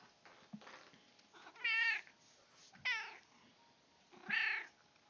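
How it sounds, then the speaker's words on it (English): A house cat meows three times indoors, each cry clear and fairly close, with short quiet gaps between them and no talking. "Y'all can hear the cat, maybe."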